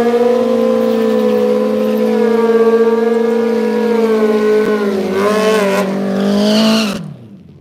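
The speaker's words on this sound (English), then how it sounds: "I know when the bikes get going, it gets rather loud." Harley motorcycles racing at a drag race produce a loud, sustained engine drone with a steady pitch that wavers and climbs near the end before dropping away fast.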